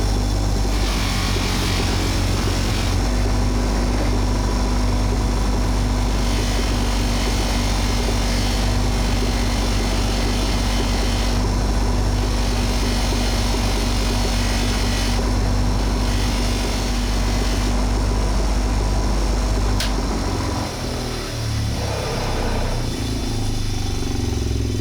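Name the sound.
stitched polishing wheel buffing bike parts with coarse paste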